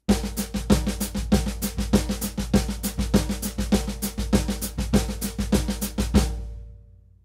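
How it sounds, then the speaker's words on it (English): Fast, steady drum kit pattern with a samba ostinato in the feet, driving kick and snare strokes in a repeating groove, played up close, ending with a ringing decay. "Another possible ostinato would be a samba in the feet."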